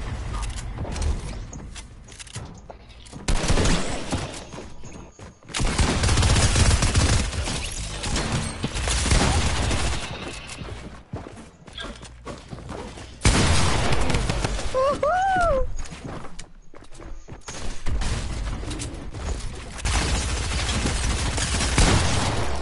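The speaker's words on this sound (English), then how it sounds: "Rapid fire SMG is so much better than the regular SMG." A rapid-fire SMG in a video game fires long, loud bursts of gunfire with brief pauses between them, while players talk over the shooting.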